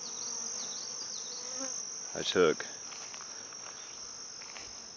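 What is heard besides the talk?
honey bees buzzing around a hive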